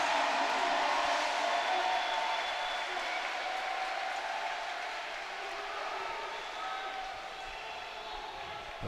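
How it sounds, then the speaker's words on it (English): A basketball arena crowd at the University of Houston, watching the USA men's team play Montenegro, gives off a faint, distant, sustained roar of cheering and applause that fades slightly over the stretch. "This crowd is getting whipped up into a frenzy."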